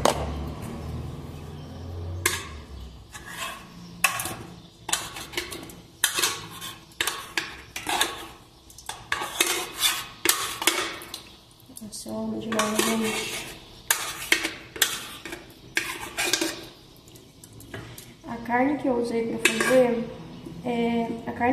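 Metal pots, pans and utensils clinking and clattering as pot roast made with beef brisket is moved into a smaller pan, sharp irregular knocks and scrapes up close, with someone speaking briefly in between.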